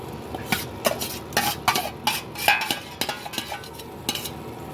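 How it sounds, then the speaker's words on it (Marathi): Raw jackfruit curry being stirred and sautéed in a pan, with a spoon scraping and clinking against the metal in irregular bursts over a soft sizzle, close up and without talk. "असं छान परतवून घ्यायचं."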